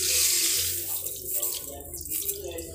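Water from a glass pours steadily into a wok while cooking singhare ki lapsi, a continuous close splashing and gurgling that runs for a few seconds with no talk.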